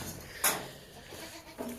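A single short Kathiawari goat bleat rings out sharply, followed a moment later by a fainter second call, against a quiet farmyard background.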